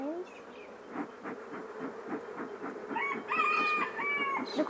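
Honeybees buzz around an open hive during an inspection, a dense close drone with fluttering wingbeats near the microphone, joined later by brief higher tonal sounds.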